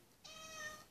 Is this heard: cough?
no